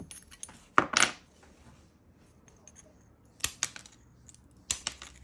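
Tile nippers snapping through mosaic tile while shaping a circle, a few sharp clicks and crunches in two or three quick bursts separated by quiet pauses, close and fairly loud.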